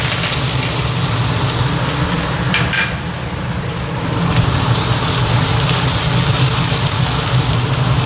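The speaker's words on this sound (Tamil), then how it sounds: "இதில் கொஞ்சம் கடுகு போட்டுக்கோங்க, சீரகம் கொஞ்சம் போட்டுக்கோங்க, அடுத்தது கொஞ்சம் பெருங்காயம் போட்டுக்கோங்க." Mustard seeds, cumin, asafoetida and finely chopped onion frying in hot oil in a home kitchen, a loud, steady close-up sizzle running throughout with no speech.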